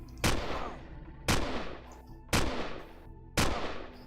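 Weapons fire in the sci-fi survival game Empyrion Galactic Survival, with four loud, evenly spaced shots about a second apart. Each shot ends in a long booming tail.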